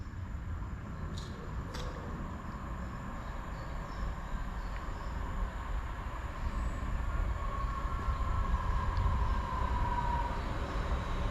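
A Northern passenger train, unit 323233 on the Manchester Piccadilly to Crewe service, pulls into a station platform with a steady rumbling roll of wheels on rails and faint squeals, growing slightly louder as it slows, with no talking.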